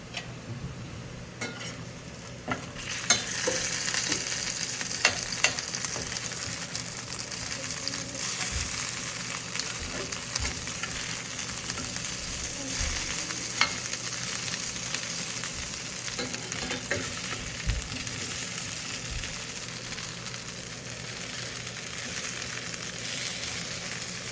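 Potatoes slow roasting and frying in a pan give a steady, close sizzle with occasional stirring scrapes, continuous throughout and with no voices.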